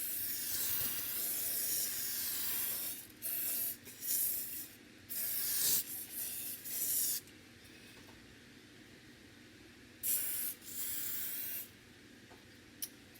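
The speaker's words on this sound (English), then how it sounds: "you have to spray this all around it" A spray can hisses in repeated bursts around a cake mould, some long and some short with quiet gaps, close and fairly soft against faint room noise.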